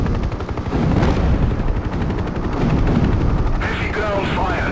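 Heavy ground gunfire from the Hind 1998 helicopter game over the Kazakhstan campaign, with dense rapid bursts and loud continuous crackling over a low rumbling drone. A voice talks partway through.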